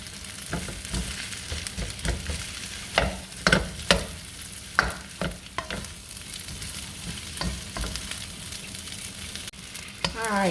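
Fried rice being broken up and stirred in a hot pan, with steady frying sizzle under repeated uneven scrapes and clacks of a utensil, close and loud with no voices.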